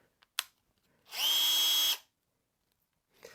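A Bosch FlexiClick cordless drill driver whirs up under the trigger for about a second, a close, high motor whine that winds down, framed by a few faint handling clicks.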